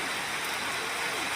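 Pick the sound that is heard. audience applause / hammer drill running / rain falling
rain falling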